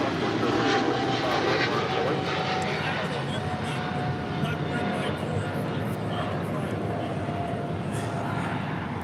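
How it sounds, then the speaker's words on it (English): An American Airlines Boeing 777-300ER takes off at LAX, its engines producing a loud, sustained roar that fills the whole stretch with a faint steady tone inside it, while people talk over the noise. "136 taking off to London Heathrow on a 777-300ER"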